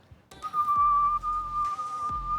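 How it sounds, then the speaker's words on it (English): A person whistling a single sustained note that wavers slightly, held for about two seconds at moderate volume, with soft background thumps. "I can whistle."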